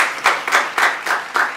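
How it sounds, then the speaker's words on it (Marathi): Applause from a gathered audience for a performer named Sandu-ji, steady rhythmic clapping with regular beats, fairly loud and close, with no talk over it. "जोरदार टाळ्या झाल्या पाहिजे आपल्या सांडूजींसाठी"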